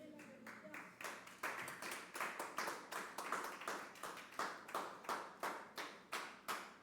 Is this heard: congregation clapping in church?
yes